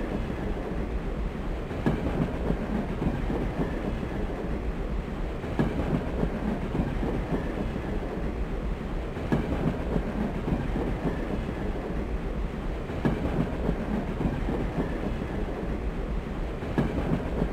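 Train running on rails in the video game GADGET -Past as Future-: a steady rumbling ride with periodic clicks from the wheels over rail joints, continuous and fairly close, with no talking.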